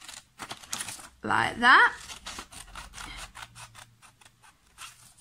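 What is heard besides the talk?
cutting a paper circle with scissors to make a cone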